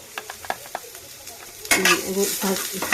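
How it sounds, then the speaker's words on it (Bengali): Bitter gourd goes onto a pan on the stove to fry. Light utensil taps come first, then a loud sizzle bursts in, crackling steadily and close. "উচ্ছেটা আমি ভালো করে ভাজতে পাশের ওভেনে বসিয়ে দিচ্ছি"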